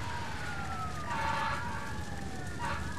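Fire truck sirens wail in the SimCity 5 city-building game, several overlapping sweeping tones that rise and fall steadily over a low background rumble, moderately loud.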